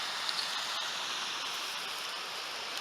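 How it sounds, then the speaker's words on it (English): A hiking-trail stream flows nearby, a steady broadband rush of running water with no break, loud and continuous and heard alone. "with that running water like that, I could easily fill my"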